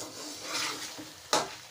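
Chicken karahi stirred in a pan, a soft sizzle with scraping spoon strokes and one louder clink of utensil against the pan, no voices.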